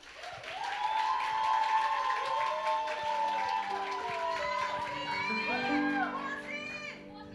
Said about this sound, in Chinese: 我们用掌声来欢迎我们的周心怡